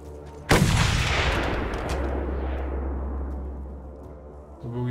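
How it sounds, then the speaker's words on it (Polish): An enemy's gunshot in the post-apocalyptic video game Mad Max: one sudden loud blast with a long rumbling decay, set over a low steady engine-like drone. "Jego wystrzał."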